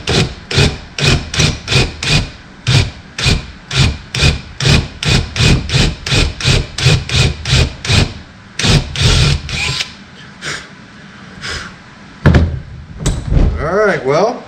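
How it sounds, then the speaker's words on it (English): A drill with a tapered bit grinds in a rapid series of short bursts, then runs in longer uneven stretches, loud and close with scraping between pulses. "I'm drilling it with a tapered drill bit."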